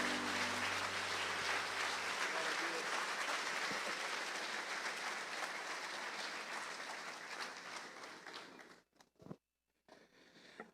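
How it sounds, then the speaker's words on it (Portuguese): Church congregation applause during a Portuguese-language worship service, dense sustained clapping from many people for about eight seconds before it thins out and cuts to near silence, then a brief final burst. "Você pode dar um aplauso para Jesus?"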